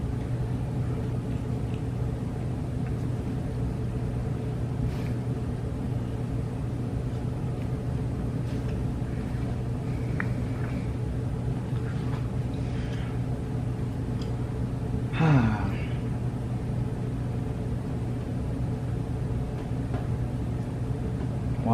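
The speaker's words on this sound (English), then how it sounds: "Watching fans spin down, like watching grass grow" A 1980-81 Emerson Designer 36-inch plastic fan winds down with a steady low hum and soft whirring that holds evenly, plus a brief rattling sweep midway.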